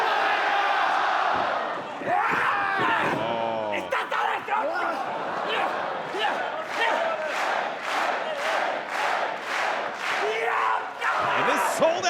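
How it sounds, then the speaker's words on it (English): A sold-out wrestling arena crowd roars and cheers loudly for the opening women's match, sustained dense crowd noise with rhythmic chanting pulses and whoops, while commentators talk over it. "And this sold-out crowd coming absolutely alive for our opening contest here."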